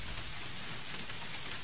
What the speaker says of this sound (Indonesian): Nampaknya hujan tak berhenti ini, Wak.